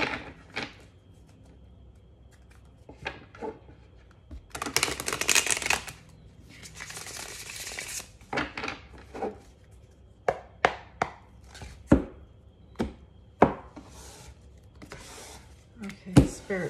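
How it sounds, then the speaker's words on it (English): Tarot cards being shuffled by hand, with a couple of longer riffling bursts followed by a string of sharp taps and clacks of the deck, close and fairly quiet. "I'm just going to shuffle two more times."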